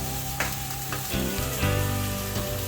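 Pork sizzles steadily in a frying pan, a close, continuous crackle with a few louder spits, and no voices.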